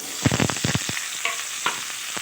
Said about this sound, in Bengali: হলুদ দিয়ে আলুটাকে নেড়ে চেড়ে ভালোভাবে আমি ভেজে নেব।